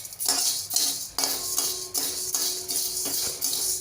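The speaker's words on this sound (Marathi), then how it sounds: "आता आपण ज्वारी भाजून घेऊया।" Jowar (sorghum) grains are dry-roasted in a pan with repeated stirring, producing rhythmic scraping and metallic clinks about twice a second, close up with no voices.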